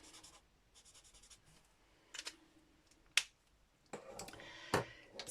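Colouring a stamped image on paper with a marker, heard as faint scratchy strokes and a few sharp taps and clicks spread irregularly over a quiet background, with no speech.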